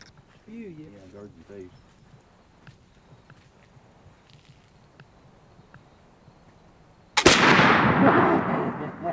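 A single loud gunshot blast rings out near the end at a friendly evening shooting competition during a hunting and float trip on Oklahoma's Mountain Fork River, following quieter voices and ambient camp sounds.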